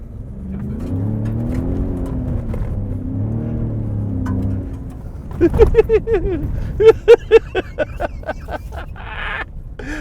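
A Ford Raptor truck engine, manually shifted, hums steadily before revving hard in a series of loud, rising bursts with gear changes between them, close and forceful.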